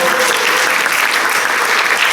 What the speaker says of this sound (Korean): 박수로 한번 부탁드립니다